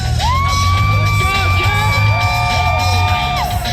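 A fairground grandstand crowd at a motorcycle stunt show at the Florida State Fair whoops, yells and cheers loudly, with sustained shouts rising over a continuous roar of voices.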